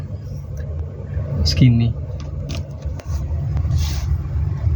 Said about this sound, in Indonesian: aku gas ya, mobil sudah berjalan perlahan